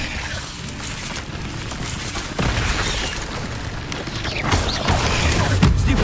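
Fire spell being cast in a Harry Potter video game: continuous loud, dense rumbling blasts and crackling bursts through the whole stretch, swelling stronger toward the end.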